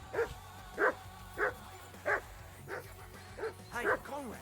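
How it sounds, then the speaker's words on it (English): Dog in Kingdom Come: Deliverance II, a medieval Bohemia game, barking repeatedly in sharp, evenly spaced yips and bow-wows at close range, with faint background game sound between barks. "Henry, call that dog to heel"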